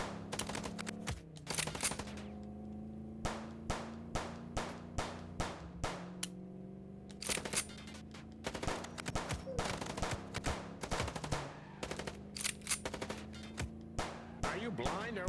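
Rapid bursts of automatic gunfire from a shootout in the video game Chicken Police, loud and dense, with steady rattling volleys and a continuous engine-like drone underneath.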